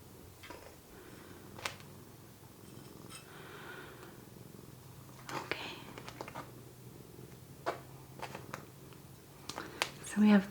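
A cat purrs softly and steadily nearby, a low continuous rumble running beneath a person talking, with occasional light ticks and clicks.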